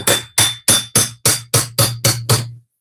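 Eight sharp hammer strikes knock against a gaming chair leg to free it from the base, evenly spaced and loud, each ringing briefly before the next, then silence.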